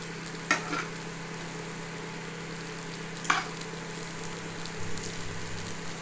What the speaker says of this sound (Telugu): ఇప్పుడు ఇందులో అన్నం వేసి కలిపేద్దాం